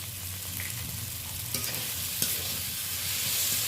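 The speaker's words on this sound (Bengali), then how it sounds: "আদা বাটাটা দেওয়ার পরে এটা ভালো করে একটু মিক্স করে নিচ্ছি" Ginger paste being mixed into softened onions and tomatoes in a frying pan, a soft steady sizzle with a couple of light stirring knocks, fairly quiet and close.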